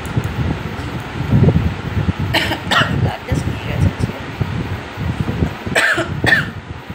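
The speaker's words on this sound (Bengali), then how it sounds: "প্রচণ্ড হারে কাশছে।" A sick young woman coughs hard and repeatedly in harsh bursts close to the microphone, mixed with throat noises and breathy rustling indoors.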